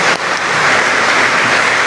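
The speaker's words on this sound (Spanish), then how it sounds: "Le damos un aplauso de felicitación." A congregation claps in congratulation for a birthday celebrant at a Sunday Mass in a chapel. Dense, steady applause fills the space for about two seconds.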